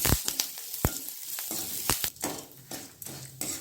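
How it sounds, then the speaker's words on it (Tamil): Lentils, dried red chilies and curry leaves fry in a pan for tomato chutney, sizzling up close with sharp crackles and pops, broken by the scrape and clink of a spoon stirring against the metal. "இதெல்லாம் போட்டு நல்லா பருப்பெல்லாம் சிவக்கிற வரைக்கும் வறுத்துக்கணும்"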